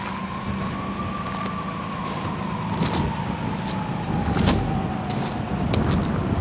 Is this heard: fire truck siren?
yes